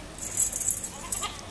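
Goat bleating while animals are unloaded, a couple of short, fairly faint bleats with rustling and jangling noise around them and no talk.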